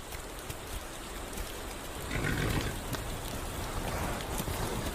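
Heavy rain pours steadily over a hilly forest region, a dense broadband hiss that swells louder about halfway through and stays constant, with no voices.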